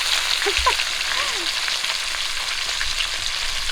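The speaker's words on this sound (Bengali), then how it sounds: "মাছ ভাজা এখন শেষই হলো না" Rohu fish pieces fry in oil in a pan over an outdoor stove in morning sun, giving a constant bright crackling sizzle, with a few faint chirps or voice fragments in the background.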